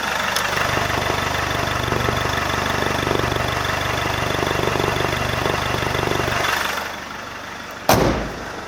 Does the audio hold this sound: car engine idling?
yes